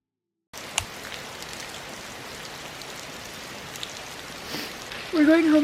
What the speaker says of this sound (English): since it's raining, we just decided to have breakfast and then head out